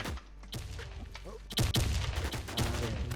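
Gunfire in the survival shooter H1Z1: a few sharp bursts of shots, loudest from the middle onward, with game noise and faint voices underneath.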